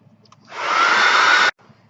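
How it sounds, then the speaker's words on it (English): A hair dryer blows on a watercolor sunflower painting in one steady, loud whoosh of about a second, starting and cutting off abruptly against near silence. "I'm going to use the hair dryer for just a second"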